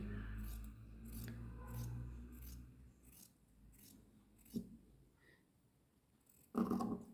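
Scissors snip through fancy net cloth for a princess-cut garment, a series of quiet, rhythmic close cuts with a brief louder crunch near the end.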